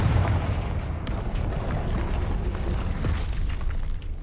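The Confringo fire spell in Hogwarts Legacy sets off a dense, rumbling explosion that roars steadily for several seconds, loud and close, with no voices over it.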